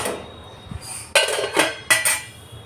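A bowl and dishes handled in a home kitchen while making a vanilla cake: a soft knock followed by several bright ceramic clinks and clatters, close and fairly loud, with no talk.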